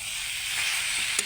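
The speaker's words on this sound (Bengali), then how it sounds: "আরও 2 মিনিট ভালো করে নাড়াচাড়া দিয়ে সমস্ত কিছু মশলার সঙ্গে মিলিয়ে নিয়ে" Potatoes and drumstick pieces frying in spiced curry sizzle steadily and fairly loudly, with a soft scrape of stirring near the end.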